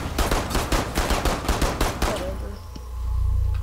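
Rapid gunfire in Rainbow Six Siege, about a dozen sharp, evenly spaced shots in a quick burst that stops abruptly, followed by a low rumbling hum.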